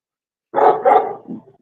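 Tater, a red and cream dog, gives two quick, close barks followed by a softer, lower third sound in an otherwise quiet room.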